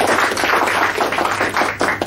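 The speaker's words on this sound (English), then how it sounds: "good for us to give more applause to them for this" Brief burst of applause from a forum audience at a media ethics and elections workshop in Southeast Asia, a short dense patter of many hands clapping nearby.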